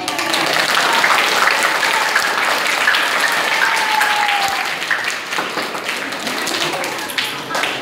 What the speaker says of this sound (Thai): และโรงเรียนบ้านสับไปเหียงปรบมืออีกครั้ง